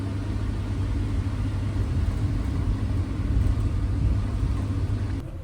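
A Vande Bharat Express train pulls into Prayagraj Chheoki railway station in the morning, heard as a steady, deep, continuous rumble of the moving train, loud and close throughout.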